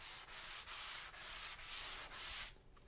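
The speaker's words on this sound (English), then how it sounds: "But let's see how it sands." Sanding dried canned spackling on drywall: six rhythmic hand strokes of abrasive rubbing, close and steady, each broad scratchy pass separated by a brief pause, then stopping.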